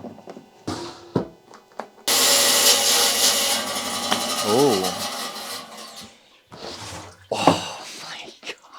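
Saw cutting through a Swazi agate from Mozambique: a loud, steady grinding rasp that runs about four seconds, preceded and followed by quieter handling sounds and a brief voice.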